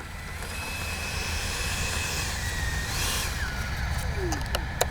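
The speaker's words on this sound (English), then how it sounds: "That's a good flying F-16 right there." A continuous jet engine drone of a Freewing F-16 70mm V3 RC model jet flying nearby, with a tone that rises and falls as it passes.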